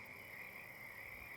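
Tree frogs croak in a steady, continuous chorus, a sustained pulsing trill that holds the whole moment without a break, heard as ambience during a fantasy tabletop role-playing game session.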